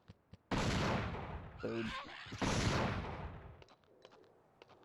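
Anti-tank rifle in Dino Crisis fired repeatedly: a few sharp cracks, then heavy booming blasts with long rumbling tails and a mechanical reload clatter between them, loud and close, with a brief spoken word.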